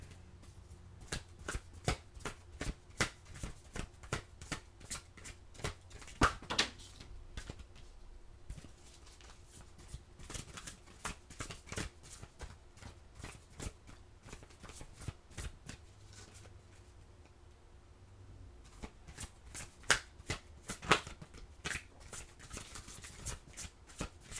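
A deck of oracle cards is shuffled over and over in rapid, papery riffling bursts, close and quiet, with brief pauses between rounds.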